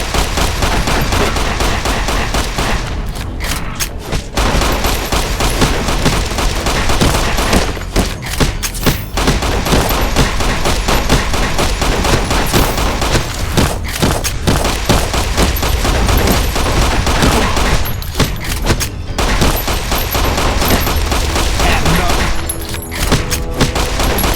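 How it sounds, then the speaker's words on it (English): Gunfire in the video game Fallout New Vegas: loud, dense bursts of shots and rapid automatic fire that go on almost without a break, up front in the mix, with some faint voices underneath. "Perhaps if I keep shooting..."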